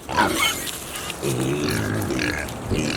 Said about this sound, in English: time to feed the pigs